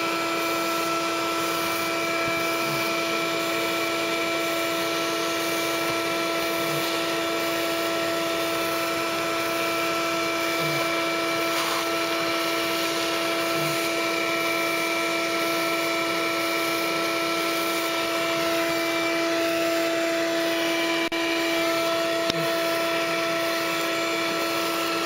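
A Tube Bee bee vacuum runs steadily on its own, a loud, even motor hum with a high whine that holds constant throughout, broken only by a few faint knocks.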